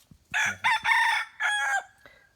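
A mixed-breed white-eared chicken rooster crows outdoors at a garden home, one long call broken into several loud, close bursts over about two seconds.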